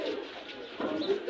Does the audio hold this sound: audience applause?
no